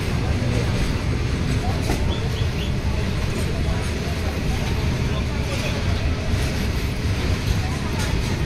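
A passenger train pulls out of Rajchandrapur station near Dankuni in Hooghly, West Bengal, its steady low rumble and rattle filling the space at close range, with faint background sounds throughout.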